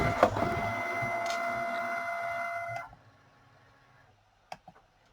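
A cutting machine working through the second cut for a shadow box, a steady mechanical whir with faint clicks that runs for a few seconds, then stops, leaving near silence and a couple of small taps.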